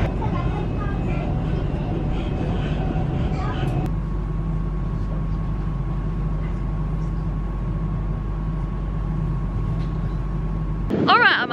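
A Merseyrail 777 train on the Ormskirk line pulling up at a station, a steady loud rolling rumble with a faint whine that drops off, then a burst of noise near the end.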